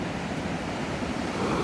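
Rushing river water at a river beach roars as a steady, loud broadband wash, close by and unbroken.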